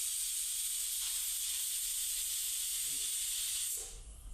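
A pressure cooker of biryani on high flame lets off a sustained, loud, steady hiss of escaping steam that fades out near the end.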